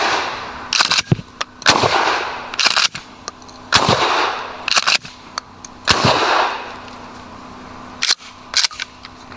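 Shotgun fitted with a JK Armament 195SGX suppressor, fired in about seven loud, sharp, evenly spaced shots, each with a brief ringing tail, followed by a couple of quieter clicks.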